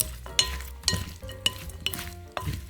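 A wooden spoon gently stirs and tosses a Korean potato dish in a bowl, giving a run of soft scrapes and light clinks with small irregular knocks, close by and alone.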